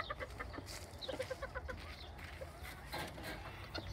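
Serama bantam chickens clucking close by, a quick run of short soft clucks and chirps over a faint low background, with sparse brief calls continuing near the end.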